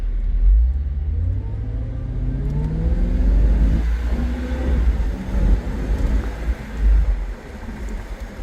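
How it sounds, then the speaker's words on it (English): A 2001 Jaguar XKR with its supercharged engine accelerates from inside the cabin, a loud, steady, rising engine drone with climbing pitch sweeps and low rumble, with no talk. "You can hear that supercharger just a little bit."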